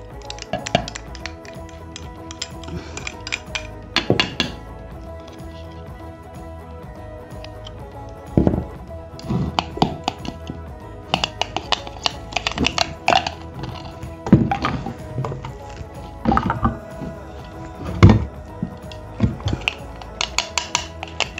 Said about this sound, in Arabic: بنحاول نطحن نخلط نخلط على اساس تتجانس وتصير مثل العجينه